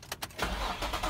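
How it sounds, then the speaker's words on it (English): A Nissan 350Z convertible's engine starting up: a brief starter crank followed by the engine catching and settling into a steady close idle. "I'm going to start the car now."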